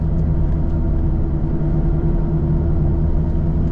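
Steady low engine and road rumble inside a salvage BMW Z4 cruising at 50 mph, constant and loud throughout with no talking.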